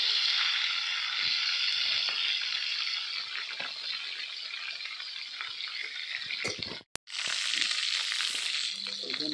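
Rith fish sizzles and crackles steadily as it fries in oil in a pan, a loud continuous hiss broken by one brief cut near the end.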